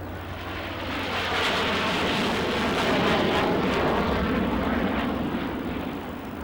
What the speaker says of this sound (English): As Jaguar flies by at very low speed